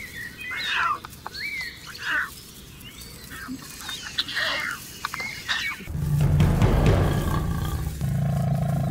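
Lions in the Kenyan savanna, heard as growling roars and yowls against a busy bed of birdsong and insects, shifting into a heavier rumbling, low-toned stretch near the end.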